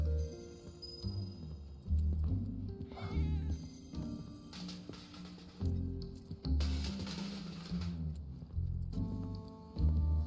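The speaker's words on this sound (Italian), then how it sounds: "I gatti, che casino che fanno." Cats in the video game Final Fantasy 7 Remake meow and caterwaul loudly and repeatedly over layered game music, with several overlapping yowls rising and falling throughout.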